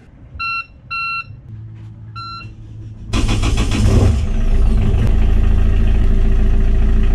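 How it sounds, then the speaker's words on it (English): A boat's inboard engine cranking over and firing up on new batteries, preceded by a few electronic beeps, then starting abruptly into a loud, steady idle close by. "And then we'll just make sure it can start the engine."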